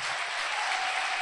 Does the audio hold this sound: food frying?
no